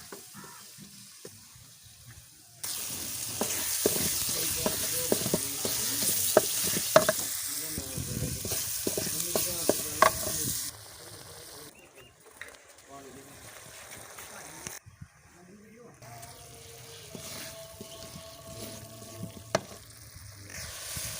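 Spices and green and red chilies sizzle and crackle loudly in hot oil for a dal mash tempering, with stirring scrapes, then the frying quiets while a person talks over a faint hiss.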